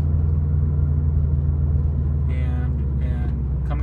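A 2011 Subaru WRX with a COBB exhaust cruising through city streets, its steady low engine rumble and drone close and continuous, with a voice briefly heard over it.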